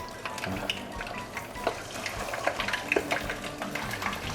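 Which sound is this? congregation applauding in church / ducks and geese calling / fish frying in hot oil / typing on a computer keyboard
fish frying in hot oil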